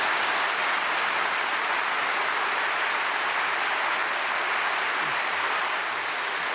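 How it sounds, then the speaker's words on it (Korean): A church congregation at a Sunday evening worship service claps together to welcome the pastor to the pulpit, a dense, even wash of applause filling the hall without a break. "소 목사님을 사랑하고 존경하는 마음으로 박수로 맞이하겠습니다"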